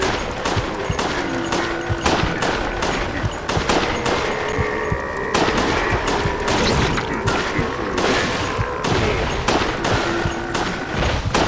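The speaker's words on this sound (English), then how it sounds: "I think maybe shooting the grenades are a bad idea" Dense bursts of gunfire and grenade blasts from the Resident Evil: The Darkside Chronicles game on Wii, rapid automatic fire and heavy booms piling up loudly and continuously.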